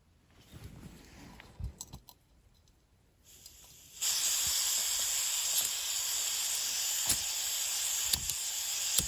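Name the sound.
small camping stove hissing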